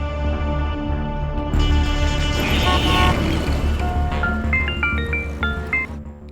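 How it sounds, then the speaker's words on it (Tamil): Road traffic rumbles close by as several car horns honk in short, overlapping toots, some higher-pitched beeps near the end. "இல்ல, டிராஃபிக்ல மாட்டிக்கிட்டு இருக்கோம்."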